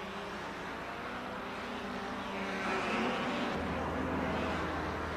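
Period racing cars at the 1957 German Grand Prix stream along the back straight, a continuous distant engine drone that swells as the cars pass, with no voices.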